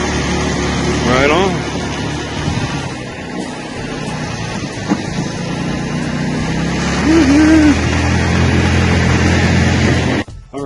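A scooter's engine runs steadily through a ride, a constant broadband drone with wind rush, while a voice speaks briefly near the start and a short pitched squeal or hum rises later on.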